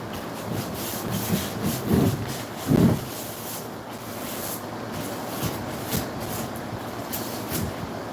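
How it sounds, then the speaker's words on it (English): Hand sanding with 220 grit sandpaper during a Lasko Ultra Force box fan restoration: soft rasping rubs with a couple of louder strokes, close and steady, no talk. "So 220 grit sandpaper, I guess, is the shit to use on this"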